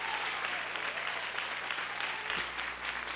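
A church congregation claps steadily together, a dense, continuous wash of applause that fills the space, with no voices standing out above it.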